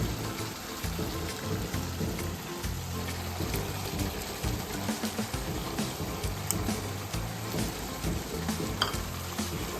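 Tomatoes are stirred into a sizzling fenugreek chicken curry, giving a continuous close frying hiss with soft irregular scraping and crackling from the stirring, steady in loudness throughout.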